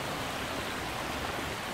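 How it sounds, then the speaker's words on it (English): Water from a pondless waterfall at an aquascape garden flows in a steady, even rush, soft and continuous, with no voices over it. "Just take a moment and listen to the water for a moment."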